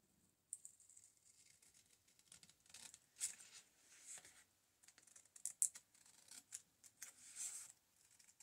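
Scissors snip and trim paper for a floral envelope journal in a quiet room, a handful of soft, brief crisp cuts and rustles at irregular intervals, close to the listener.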